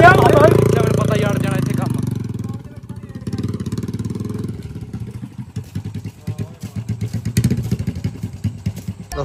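A motorcycle on the move, its engine roaring loudly at first, then thumping with a rapid, uneven pulse as it rides along, with wind buffeting and some chatter in the background.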